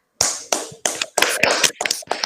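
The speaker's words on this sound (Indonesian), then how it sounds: "Beri aplaus dulu yang meriah untuk kelompok 3" Several separate bursts of hand clapping from a small group of students in a classroom session, uneven and spaced apart, close and fairly loud with no talk over them.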